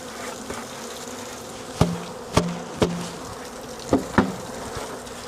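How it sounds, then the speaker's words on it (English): A dense, continuous buzz of many honey bees, broken by five sharp knocks on a hollow wooden hive surface at irregular intervals. "See how many bees are in there?"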